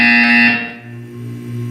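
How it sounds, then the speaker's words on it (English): A loud, steady electronic buzzer tone from the Portal 2 test chamber sounds for about half a second, then cuts off, leaving a lower mechanical hum. "You will hear a buzzer."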